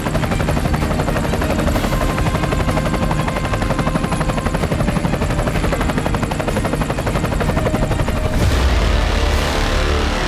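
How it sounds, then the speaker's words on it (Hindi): Iranian military helicopters, some modified by the Iranian army, fill the air with a loud, continuous rotor roar and dense thudding that holds steady throughout, with no voices. "इनमें 100 मिलिट्री हेलीकॉप्टर्स को दिखाया गया"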